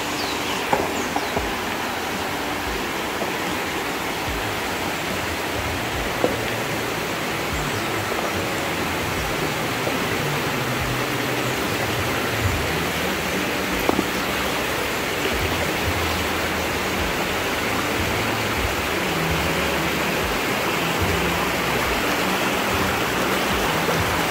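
River water rushing strongly past displaced stones near a bridge crossing, a dense, steady broadband roar that stays loud and unbroken throughout, with no voices.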